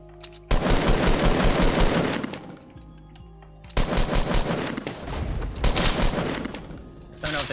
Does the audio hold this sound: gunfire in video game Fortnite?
yes